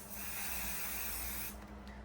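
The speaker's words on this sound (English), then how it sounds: "We're gonna spray the stabilizer onto the other stabilizer to hold it all in place." A can of adhesive sprays onto embroidery stabilizer in a steady, close hiss that lasts almost two seconds before fading off, with no voices.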